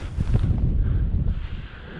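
Wind gusts buffet the microphone during a fishing trip, a loud, low rumbling roar that surges and eases for a couple of seconds with no talking.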